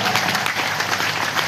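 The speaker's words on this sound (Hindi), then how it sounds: "इसलिए बजाइए गुरुदेव भगवान के स्वागत में एक बार ताली।" An audience at a large Hindi religious satsang gathering claps together to welcome the guru, producing dense, continuous applause that fills the space without a break.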